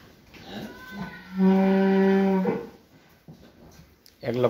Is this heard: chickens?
no